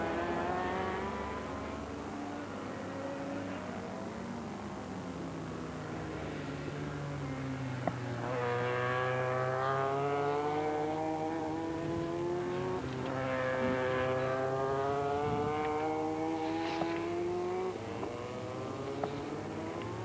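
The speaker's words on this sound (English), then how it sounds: "That big yellow Ducati. Race leader, Eustacio." A big yellow Ducati racing motorcycle leads a race. Its engine wails steadily, rising and falling through the gears as bikes rev and pass, with a loud, continuous race-track drone and no speech.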